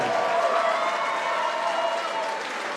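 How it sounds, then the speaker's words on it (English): A boxing crowd breaks into applause for the fighters after the bout, a steady wash of clapping from many hands that holds fairly even and eases slightly toward the end. "Ladies and gentlemen, a big round of applause for these outstanding fighters."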